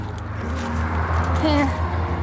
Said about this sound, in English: Hopefully you can hear me over all the traffic.